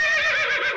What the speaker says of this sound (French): c'est pas une vache, c'est un cheval